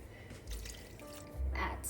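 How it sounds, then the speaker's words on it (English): Water poured over pasta in a bowl, short bursts of splashing and gurgling close by, two louder pours a second apart. "Add more water to cover the pasta."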